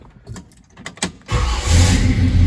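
A few clicks and a brief cranking whir, then a 1965 Chevrolet Impala SS engine catches and settles into a loud, steady idle.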